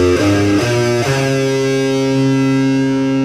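A distorted electric guitar with a touch of reverb plays a few notes that slide into one sustained, ringing note, loud and close with no talk.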